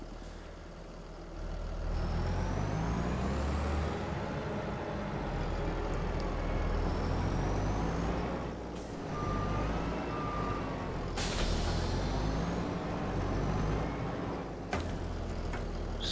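Farming Simulator 25 game audio of a multi-fruit autoload trailer being tested, with a steady engine drone, repeated high reversing beeps, and a couple of air-brake hisses, loud and continuous with no talk.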